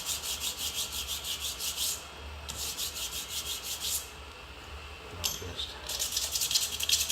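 Sandpaper rubs super glue off a knife handle during final fitting, a steady scratchy rasp in repeated strokes that pause briefly and resume, close and clear with no talking.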